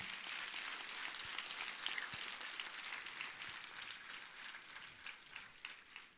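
A large seated audience at a Telugu motivational talk on student depression claps loudly, a dense steady wash of applause sustained for several seconds without letting up.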